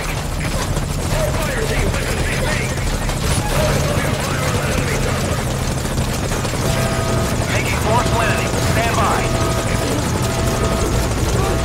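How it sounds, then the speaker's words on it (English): A helicopter in the video game Metal Gear Solid Ground Zeroes, its steady rotor thump loud and continuous throughout, while game radio voices talk over it. "Roger that chopper request. It's headed your way now."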